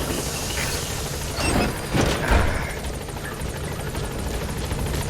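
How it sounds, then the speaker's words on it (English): A support helicopter's rotor in the video game Metal Gear Solid V: The Phantom Pain roars steadily close by, a thick thudding wash with a few sharper bursts rising and falling in the mix. "Support helicopter has arrived."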